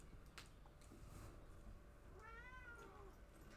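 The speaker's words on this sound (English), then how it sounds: "The cat apparently really wants to talk in the video." A cat meows several times close by, with a drawn-out rising and falling cry toward the end over a faint, noisy background.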